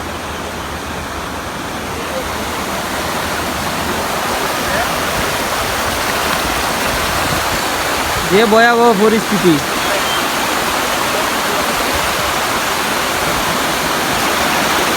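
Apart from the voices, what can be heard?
rushing floodwater in Sylhet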